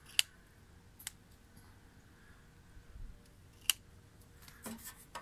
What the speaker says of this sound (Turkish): Şuradan makas vuracaksın ya.